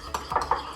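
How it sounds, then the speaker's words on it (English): A baby spoon stirs olive oil brush soap in a small dish, giving three quick clinking taps against the container over under a second, close and fairly soft. "I'm going to take this little baby spoon and I'm just going to mix this around in here"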